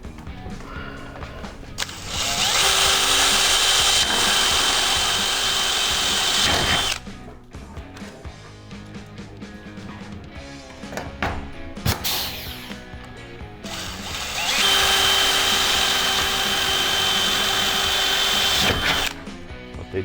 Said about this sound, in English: I'll go ahead and rivet that up to where it's a little tighter